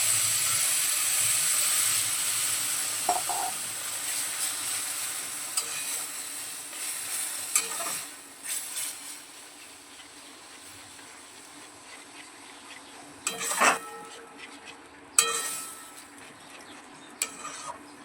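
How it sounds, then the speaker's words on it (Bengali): Protein halwa simmers with milk in a pan over low heat while being stirred slowly, giving a soft, steady sizzle with occasional scraping clicks. No one speaks. "হালকা আঁচে আস্তে আস্তে নাড়তে থাকবো"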